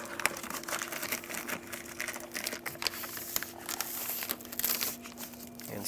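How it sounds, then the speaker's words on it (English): Plastic vapor barrier sheeting crinkles and rustles as it is handled inside the rear door of a 2002-06 Toyota Camry, a busy run of soft crackles and taps close by with no talking. "Stick the wire back through the vapor barrier."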